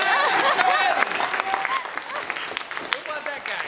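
Audience applause at a live spoken performance, loud clapping mixed with cheering and whoops from the crowd, fading unevenly toward the end.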